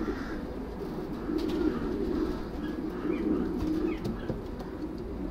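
Low, soft pigeon cooing rolls on steadily, several breeding pigeons in a loft murmuring together over a faint background hum.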